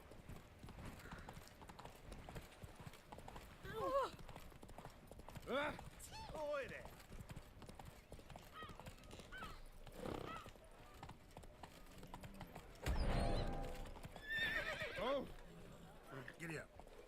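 A horse in the Witcher 3 video game whinnies loudly and its hooves clip-clop, with a heavier burst of galloping later, mixed with game sounds and someone talking over it.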